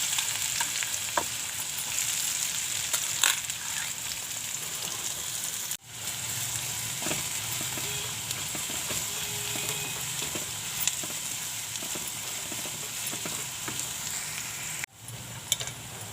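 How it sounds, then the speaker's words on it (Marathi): Onion and garlic sizzling in hot oil in a kadhai, a steady broadband crackle with occasional stirring clicks, close and continuous, briefly interrupted twice, no talking. "लसूण चांगली भाजली, आता कांदा घालून घेते।"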